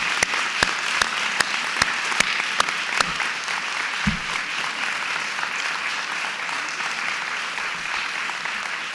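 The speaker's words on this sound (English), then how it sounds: "if you would join me in a round of applause for the James Monroe staff" Steady applause from an audience at an elementary school ribbon cutting, honoring the school staff, with a few sharp individual claps standing out at first over a continuous dense patter that carries on to the end.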